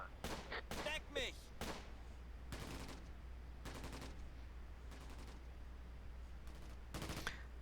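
Close Combat, a World War II game set around Caen, fires bursts of gunfire and artillery: irregular sharp volleys and rapid clusters of shots over a steady low hum, with some speech mixed in.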